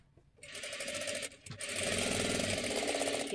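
A sewing machine stitches a seam on a one-piece jacket, the rapid motor-driven stitching close and steady, briefly pausing before resuming and running to the end.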